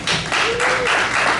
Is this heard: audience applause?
yes